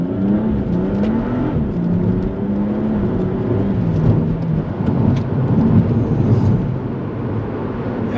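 A BMW M140i with its B58 engine, gasoline particulate filter and Akrapovic slip-on exhaust revs and accelerates, giving a loud, rising and falling exhaust drone that holds through the whole stretch with no talking.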